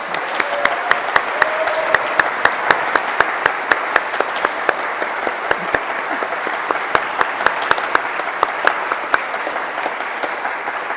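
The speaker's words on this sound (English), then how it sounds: "Let's give them all one more rousing round of applause." Audience applause at an alumni association awards ceremony during a homecoming convocation, dense and sustained for about eleven seconds, loud and even with a few sharper claps near the front.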